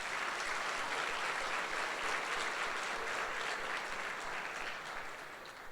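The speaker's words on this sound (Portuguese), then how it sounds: "Dê um aplauso aí ao Senhor Jesus." A church congregation at a Sunday service applauds, a sustained dense clapping from many hands that holds steady and then eases slightly near the end, no speech over it.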